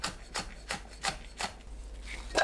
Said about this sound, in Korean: 청양고추를 둥글게 썰어줍니다.